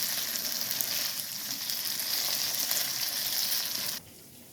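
Chili pieces fry in hot oil for batata poha, a dense steady sizzle running loud and close for about four seconds before dropping abruptly to a faint hiss.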